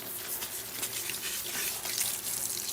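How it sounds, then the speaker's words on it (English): Hands are rinsed under a steady stream of running water in a salon shampoo bowl, a continuous close splashing rush with no talk. "I'm going to go ahead and rinse my hands off."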